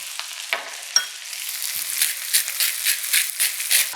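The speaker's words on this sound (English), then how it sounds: "And we're going to saute all this down." Cremini mushrooms, shallots and garlic, seasoned with salt and pepper, sizzle and fry in a pan for veal Marsala, a steady crackling hiss broken by a few sharp stirring clatters, close and with no talk.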